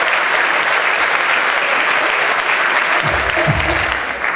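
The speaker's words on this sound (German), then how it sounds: "Herzlich willkommen auf großer Applaus." Sustained, dense applause from a large audience at a sports gala honoring an athlete, steady and loud throughout with a brief lower rumble near the end.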